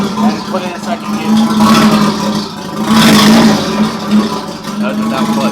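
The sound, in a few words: Mazda FC RX-7 accelerating in second gear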